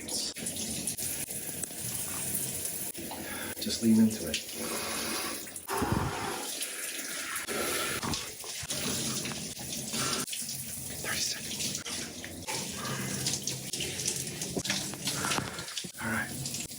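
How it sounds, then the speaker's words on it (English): Shower water runs in a home bathroom, a continuous splashing hiss that shifts and cuts out briefly as the stream is blocked, close and fairly loud, with a person speaking briefly over it. "And now I'm gonna take a cold shower for like 30 seconds."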